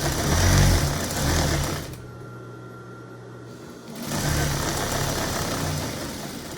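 A sewing machine stitches back and forth along an apron seam, its motor whirring in two bursts with a brief pause between them, close and steady.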